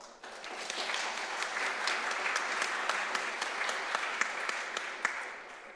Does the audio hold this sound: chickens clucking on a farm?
no